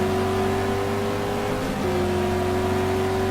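A GT3 race car in a racing video game accelerating down the start-finish straight at Melbourne, its engine a steady, loud drone with a slight shift in pitch partway through.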